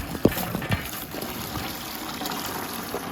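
Water runs in a steady gush as horse water buckets are filled, with a couple of sharp knocks near the start and a constant splashing wash throughout.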